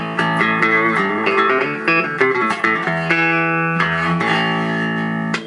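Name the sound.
bass guitar played clean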